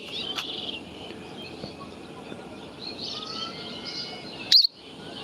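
A pet bird's short chirps over a quiet room hiss, ending with one sharp, louder call near the end.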